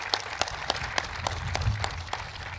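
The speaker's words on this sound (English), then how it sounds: "that deserves another round of applause" An audience at an Erie Canal ribbon-cutting event gives a round of applause, a steady wash of many hands clapping with a few sharper individual claps standing out.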